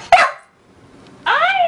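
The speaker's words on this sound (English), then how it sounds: "Are you barking?" A corgi barks twice, close and sharp, with a short quiet gap between the high yappy barks.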